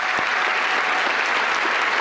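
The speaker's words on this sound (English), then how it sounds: "Round of applause for Ouija board." A dinner audience applauds in a dense, even roar of many hands clapping, loud and sustained throughout without pause, no voices standing out.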